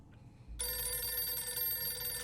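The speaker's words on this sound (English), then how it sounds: "Phone's ringing." An old-fashioned telephone bell in the game 60 Seconds! Reatomized starts abruptly after a short tone and rings continuously and loudly, a bright metallic jangle with no voices over it.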